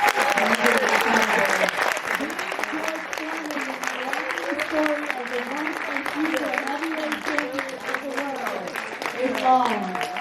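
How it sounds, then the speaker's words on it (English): An audience applauds boxer Khris Davis at a live event with sustained, dense clapping throughout, while someone keeps talking loudly over the applause. "please give a round of applause to Khris"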